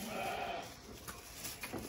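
Sheep at a shearing bleat from a busy barn, the calls rising over a steady background bustle before fading back into it.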